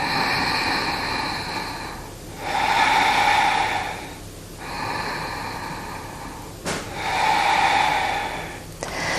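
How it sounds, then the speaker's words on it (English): Deep yoga breathing during a vinyasa flow: four slow, loud breath cycles, each a long airy inhale or exhale through the nose and mouth, close to the microphone with brief pauses between. "Breathe into the right ribs."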